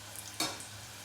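Potato chips dropped into hot oil in a pan set off a sudden burst of sizzling that eases into a steady, quieter frying hiss, heard close by.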